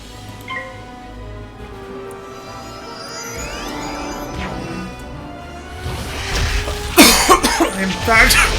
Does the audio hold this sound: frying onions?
no